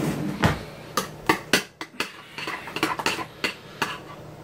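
A metal spoon clinks sharply against a dish of homemade chocolate pudding for frozen pudding pops, a dozen or so close, irregular taps and scrapes over about four seconds with no talking.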